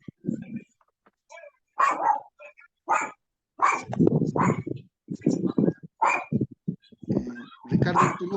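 A small dog barks in short, repeated bursts through an indoor gathering, mixing with nearby talk from people in the room.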